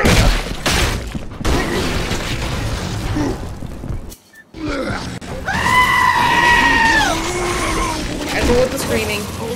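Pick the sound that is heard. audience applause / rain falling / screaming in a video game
screaming in a video game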